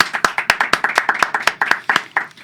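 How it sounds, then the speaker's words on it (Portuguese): A small group claps in a podcast studio to welcome a guest, sharp distinct hand claps in an uneven rhythm, close and crisp rather than a dense crowd roar. "Uma salva de palmas."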